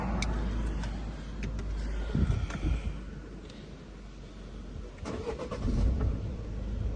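A Peugeot 3008 with a 1.6 HDi diesel engine cranks and starts close by: a couple of bursts of starter effort around the middle, then the engine catches and rises into a rough idle.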